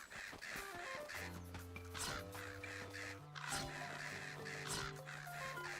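Crows cawing in the video game The Legend of Zelda: Echoes of Wisdom, repeated harsh caws over steady game music with tonal notes, clear and fairly close throughout.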